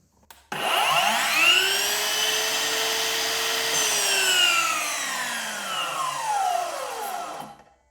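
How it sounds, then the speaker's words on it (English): Ryobi slide compound miter saw with an electric brake, motor whining up quickly, holding a steady loud spin, then gradually winding down in pitch over several seconds before falling silent, alone and close. "That seems like a very long time for a blade to be spinning before it comes to a full and complete stop"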